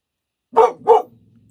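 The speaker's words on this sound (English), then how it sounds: "He continues to bark." A dog barks twice in quick succession, close and fairly loud, then falls quiet, indoors beside a workbench during soldering.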